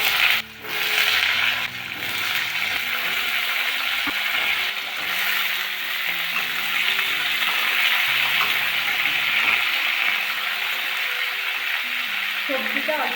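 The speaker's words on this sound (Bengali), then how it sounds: "কড়াইয়ে তেল দিয়ে দিয়েছি, তেলে পাঁচফোড়ন দিয়ে দেবো।" Panch phoron five-spice seeds in hot oil in a wok, a loud, continuous sizzle and crackle with occasional stirring clatter, close by and steady throughout, with no voices.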